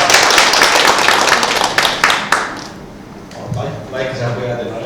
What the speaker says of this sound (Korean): 큰 박수 좀 부탁드립니다.